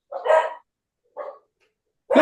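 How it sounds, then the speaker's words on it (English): A small dog barks a few times indoors during an online meeting, with two short bursts and a third starting at the end, fairly close and fairly loud. "is that your little dog barking?"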